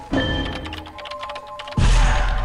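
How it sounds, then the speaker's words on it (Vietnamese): A busy Identity V game soundscape of clicks and faint tones, then a single heavy wooden pallet slam lands near the end and rumbles on. "Nghe tiếng ván đập"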